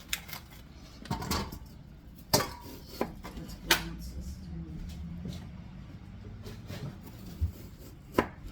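Knife chopping mushrooms on a cutting board in a home kitchen, sharp irregular thuds spaced a second or so apart over quiet room noise.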